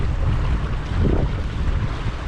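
A boat cruises slowly down the River Bure on the Norfolk Broads, its engine a low steady churn mixed with wind buffeting the microphone and water washing along the hull.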